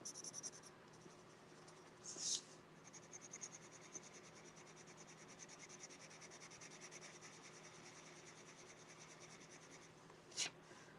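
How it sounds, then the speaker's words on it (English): Soft, continuous scratchy rubbing of a blender pencil over colored pencil on paper, steady and close, broken by two brief louder scuffs. "now let me use the blender"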